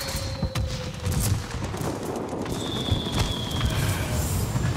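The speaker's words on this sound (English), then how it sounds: "So that is carpet bombing" Carpet bombing in World of Warplanes: a rolling series of muffled bomb blasts and rumbling booms over steady aircraft engine drone, continuous and fairly loud throughout.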